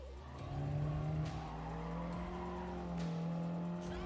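A race car engine holds a steady high drone at full throttle in Gran Turismo Sport at Weather Tech Raceway, with tire squeal layered on top, fairly quiet and without speech.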